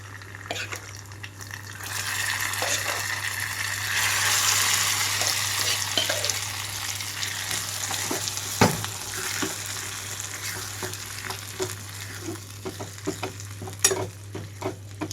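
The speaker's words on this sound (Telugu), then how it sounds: "ఈ తాలింపులో మొత్తం కూడా పప్పు కలిపేసుకుంటున్నాను నేను ఇప్పుడు" Cooked dal being stirred into a fried onion tempering over a low flame for tomato pappu with raw mango: a steady close sizzle with repeated scraping stirs of the spoon through the thick mixture, no voices.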